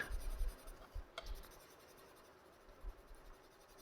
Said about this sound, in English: now I'm going to blend it. Yes, so use circular strokes so it blends better